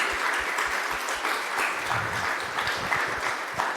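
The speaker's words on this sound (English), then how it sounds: "if everyone could give them a round of applause." Audience applause for union members at an evening organizing event in Columbus, a dense, steady wash of clapping that holds for several seconds at even loudness.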